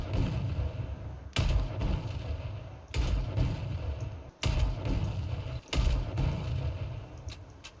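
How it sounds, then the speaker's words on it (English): Explosive sniper bullets fire in the video game Sniper Ghost Warrior Contracts, with about four loud, sharp blasts spaced over several seconds. Each is followed by a rumbling decay above steady low background noise. "Explosive bullets are fun."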